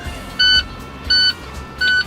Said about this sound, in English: our warning buzzer has come on to indicate that we have low air pressure